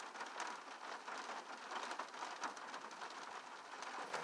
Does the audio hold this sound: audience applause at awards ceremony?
no